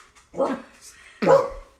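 Two bark-like bursts from a dog, about a second apart, come from a home kitchen where a Thanksgiving-themed stuffed Kong treat is being prepared.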